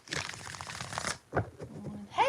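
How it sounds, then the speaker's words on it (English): A tarot deck shuffled twice by hand: a long, close, rustling riffle lasting about a second, then a brief pause and a second short shuffle, with faint room noise and a small sound at the very end. "2 more shuffles"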